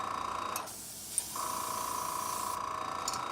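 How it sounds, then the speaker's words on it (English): Airbrush spraying primer onto Warhammer 40K miniatures: two close bursts of steady hissing air separated by a short pause, with a faint click between them. "Let's grab our airbrush and finish it up."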